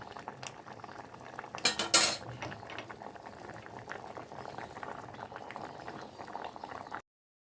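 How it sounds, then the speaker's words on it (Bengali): Food left to boil in an open pot after a pressure cooker is opened bubbles steadily at close range, with a sharp burst of metallic clatter from a pot or utensil near the start and no talk. "এবার একটু ফুটে উঠবে, ফুটে উঠলেই নামিয়ে দেবো ভালো করে।"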